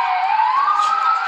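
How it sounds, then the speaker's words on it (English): A police siren wails in a steady rising tone during an LAPD pursuit in Los Angeles, loud and continuous for the whole moment with no talk over it. "So that was a siren."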